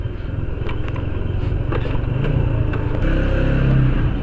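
A TVS Apache RTR 160 motorcycle idles and blips while being parked at home, a close, steady engine rumble with a few sharp clattering pops and a slight rise in loudness toward the end.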